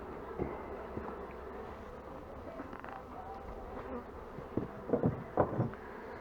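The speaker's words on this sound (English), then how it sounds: "there's some bees hanging at the bottom of it" Honeybees buzz steadily around an opened beehive during a brood check, a dense continuous drone with louder passes of individual bees flying close by near the end.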